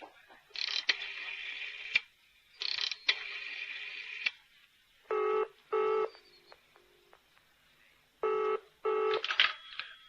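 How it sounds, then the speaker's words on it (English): An old telephone being dialed for a call, with bursts of tones and clicks spread over ten seconds, separated by short pauses and ending in a cluster of rapid clicks. "I must make a phone call."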